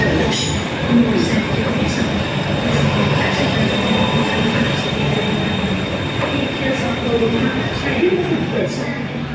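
A Bangkok passenger train rolls along with a steady, dense rumble and faint wheel squeal, heard from inside at close range; a low murmur of voices sits under the continuous noise.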